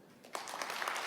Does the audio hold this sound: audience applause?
yes